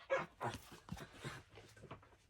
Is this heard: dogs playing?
yes